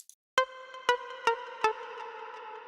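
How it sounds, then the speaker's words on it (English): A plucky synth tone built from a Moog Sub 37 lead sound strikes four times in a steady rhythm, each note bright and harmonic with a quick attack and a short ringing decay, clean and close. "I also created this plucky sound from one of the lead sounds."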